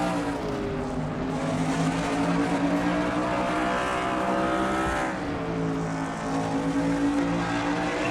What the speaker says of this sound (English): Now Bill moved to the inside again, come off turn number 4.